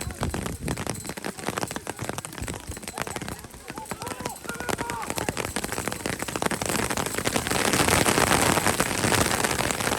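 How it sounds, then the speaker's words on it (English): Rain pours down during a non-league football match between Mildenhall Town and Witham Town, a dense, steady hiss that swells louder toward the end, with voices from the crowd mixed in. "Oh, here goes the rain."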